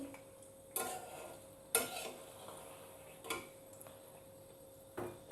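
Soya chunk pakoras in hot oil, flipped gently one by one: a faint, quiet bed of frying with four or five sharp clinks and scrapes of a utensil at irregular intervals.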